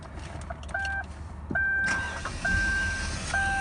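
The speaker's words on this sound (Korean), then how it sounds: "지금 이제 시동을 제가 한번 다시 걸어 보도록 하죠." A SsangYong New Chairman 600S running on LPG fuel cranks and starts, its engine noise building and settling into a steady idle, with chiming dashboard warning tones sounding repeatedly over it.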